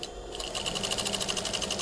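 A sewing machine stitching rows with elastic thread for shirring, a fast, steady mechanical chatter that runs continuously and close up with no voices.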